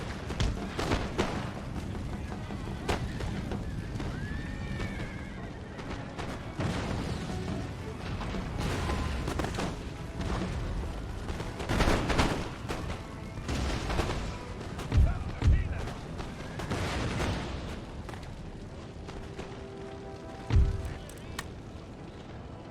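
Musket volleys and cannon fire in the video game Empire: Total War, a continuous rumbling battle din with scattered booms and bursts of gunfire, and a person talking over it.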